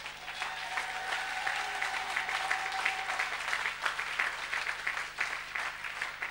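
A church congregation applauds the Lord, with sustained, dense clapping from many hands that keeps an even, lively rhythm throughout.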